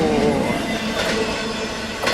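A double-stack freight train rolls past on the line through Cajon Pass, a loud, steady rumble of wheels and cars with faint metallic squeals and clatter, heard close by with no talking.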